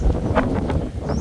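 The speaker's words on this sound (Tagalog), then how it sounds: "Lakas ng hangin." Strong wind blowing across a rural pineapple plot during the rainy season, a brief rough gust buffeting the microphone with low roaring rumble.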